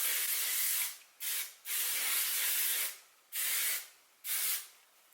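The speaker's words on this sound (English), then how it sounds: "I'm going to use the Moroccan Oil Luminous Hairspray." Moroccan Oil Luminous Hairspray misted onto loose curls, five close, breathy hissing bursts of uneven length separated by short silent gaps.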